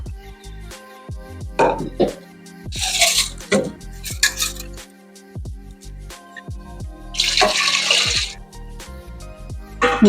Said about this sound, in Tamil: இதில் ஒரு சொம்பு தண்ணி ஊற்றியிருக்கேன்